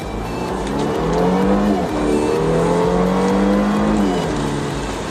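A 2019 Volvo S60 T6 R-Design with a supercharged, turbocharged engine accelerates hard on a highway, its engine note climbing through gears in two clear rising sweeps, loud and close from the cabin.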